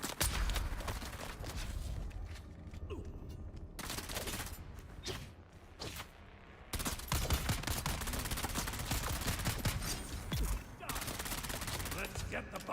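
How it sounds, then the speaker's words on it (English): Rifle gunfire in the video game Dune: Awakening, a loud, busy stretch of repeated shots and impacts that briefly drops away midway before resuming, with a voice faintly under the action. "Yeah, this rifle is great."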